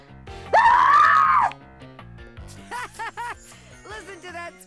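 A video game character in Date Everything lets out a loud, sustained scream, followed by shorter wavering vocal cries and game sound effects.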